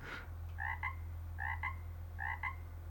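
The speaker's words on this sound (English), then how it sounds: "A cricket." A cricket-sound vehicle horn in Farming Simulator 22 sounds three evenly spaced chirping bursts, each a pair of quick trilled pulses, over a steady low engine hum.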